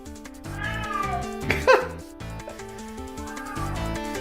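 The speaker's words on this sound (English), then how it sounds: "Cat is literally saying hello." A cat meows repeatedly on a cold morning outdoors, a couple of clear, rising calls standing out near the middle over a steady backdrop of droning harmonic sound, with no talking.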